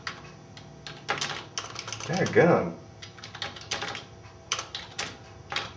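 Fingers tap on a computer keyboard in quick, irregular clusters of clicks, fairly faint, while someone talks over the typing.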